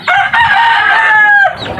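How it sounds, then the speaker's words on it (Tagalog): A rooster crows loudly and close by, one long drawn-out call with strong harmonics, as chickens of a flock of Asil-type fowl cluck around him in a backyard. "at sunod ng sunod yung aking mga manok"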